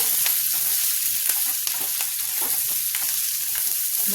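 Green chillies frying in hot oil for a sweet-and-sour chilli pickle, a steady close sizzle with occasional stirring scrapes, no voices.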